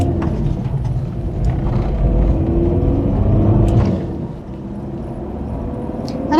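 A Citroën Berlingo Multispace on the road, its engine giving a steady low rumble and whir with a slight swell in revs and tyre roar, heard from inside the cabin with no talk.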